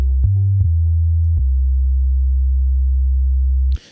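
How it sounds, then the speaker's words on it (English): A pure low sine tone from the Rapture Pro software synth sounds steadily for nearly four seconds, with a few faint clicks where notes retrigger, then cuts off abruptly. "Sine wave happens to be the first one available."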